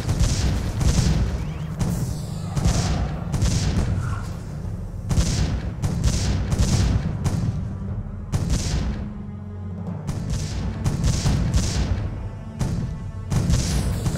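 Booming cannon shots in the tower-defense game Defense Grid: The Awakening, a dozen or so loud, sharp blasts firing in irregular succession with short decays between them.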